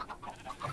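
Minecraft chickens cluck in a short, faint burst of a few soft clucks in the blocky video game.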